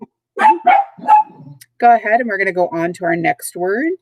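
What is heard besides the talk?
dogs barking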